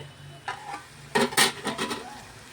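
Vegetables fry in a pan over a low flame with a soft background sizzle, broken by a few clanks and scrapes of a spoon stirring against the pan, close and fairly quiet.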